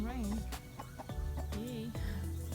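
Backyard garden chickens clucking at fresh water, several short cackles and warbling calls close by, with a low steady background hum throughout.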